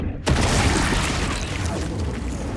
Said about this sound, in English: Joel kills a queen sand gobbler with a grenade.